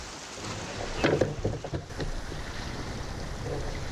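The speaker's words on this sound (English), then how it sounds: "you can hear the wind and the waves coming in on the other side of the island" Steady wind rush with lake waves sloshing and lapping against a hull, a few louder splashes midway, continuous and fairly close.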